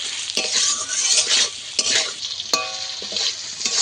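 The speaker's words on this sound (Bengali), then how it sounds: "গুঁড়ো দিয়ে দেব দিয়ে আবারও কিছুক্ষণ নেড়ে চেড়ে আরেকটু ভাজবো" Taro pieces frying with spice powder, a loud continuous sizzle broken by repeated metal spatula scrapes and clinks against the pan as it is stirred.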